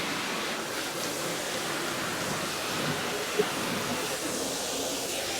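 A garden hose nozzle sprays water while a car is washed, giving a steady, even hiss of spray that runs without a break at moderate loudness.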